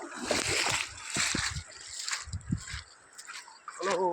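Footsteps wading through shallow river water, with bursts of loud nearby splashing and sloshing, brief pauses between strides, and a voice faintly present at times.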